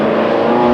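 TVR Tuscan race car at the 1995 Tuscan Challenge accelerating out of a corner, a brief loud, steady engine roar close by with no voices.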